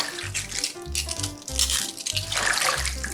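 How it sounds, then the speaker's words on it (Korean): Water poured into a bowl of sliced cabbage to soak, a steady close splashing and trickling that runs throughout with a low repeating hum beneath it. "썰어놓은 양배추에 물을 좀 부으시고요"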